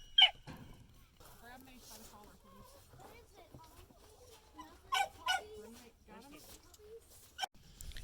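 Newborn puppies with their mother dog on a sheep farm give faint, scattered whimpers and squeaks, with a few louder yelps, under nearby talk.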